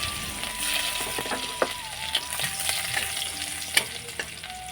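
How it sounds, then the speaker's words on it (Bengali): Crushed garlic spits and fries in hot oil as a tempering for a small-fish curry, a dense, close sizzle dotted with stirring clinks and scrapes. There is no talking. "থেতো করা রসুনটা ফোড়নে দিয়ে দিলাম"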